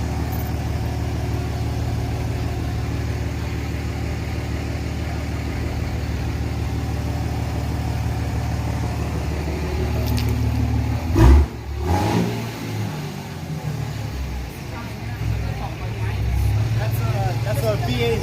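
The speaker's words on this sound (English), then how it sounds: "That's a V8 Hemi. You can hear it." V8 Hemi engine rumbling at a steady idle close by, then blipping into a sharp rev burst partway through before settling back; people talk over it throughout.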